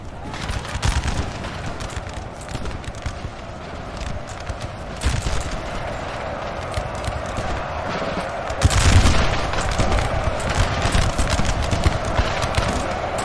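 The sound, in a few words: gunfire in video game Napoleon Total War battle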